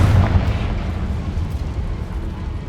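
A Confringo fire spell explodes in the Hogwarts Legacy video game, giving a heavy, low booming blast that decays into a rumbling tail over a few seconds.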